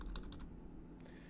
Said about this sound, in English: I just press the X key on my keyboard.